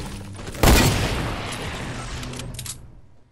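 A loud burst of gunfire in a Fortnite match, one sharp crack followed by a rumbling decay and a quieter second shot near the end, with no talk over it.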